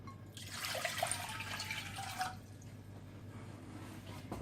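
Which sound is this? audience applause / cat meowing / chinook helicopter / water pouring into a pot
water pouring into a pot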